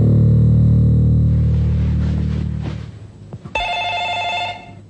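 A telephone rings on an outgoing call: a loud steady ringback tone fades out, then after a brief pause a bright electronic ring begins near the end.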